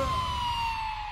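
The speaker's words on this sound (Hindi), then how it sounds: "एम्बुलेंस" An ambulance siren in a film scene holds a steady high wail close by, a short burst of the vehicle passing near.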